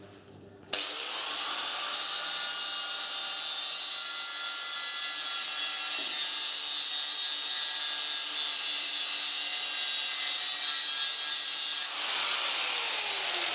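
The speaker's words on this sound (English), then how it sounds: "Just going to clear it a little bit with the grinder so I get a good earth." An angle grinder cleans bare metal on a bent guide finger of a mulcher-chipper before welding, starting abruptly and holding a loud, steady high-pitched whine close by for about eleven seconds before it cuts off.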